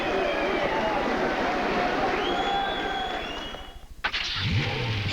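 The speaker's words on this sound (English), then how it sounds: "The crowd on its feet." Boxing arena crowd at a welterweight bout, on its feet and cheering: a dense, loud roar of many voices that swells, briefly dips, then surges again with bright shouts on top.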